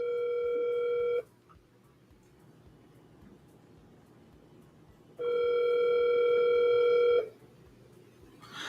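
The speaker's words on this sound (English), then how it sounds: "Let me call this guy one last time and leave a voicemail" A phone call ringing out on the line before going to voicemail: two long ringback tones, about a second and two seconds long, separated by a quiet four-second gap over faint background hiss, with no one talking.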